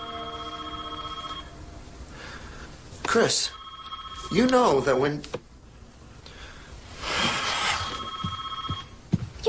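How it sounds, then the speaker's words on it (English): An old telephone bell rings indoors in a steady repeating trill at the start, then fades behind a heated family conversation between an adult and a child. "The phone is ringing."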